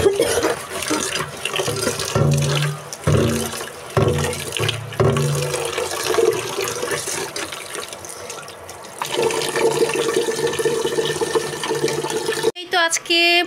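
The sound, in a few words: washing rice grains in water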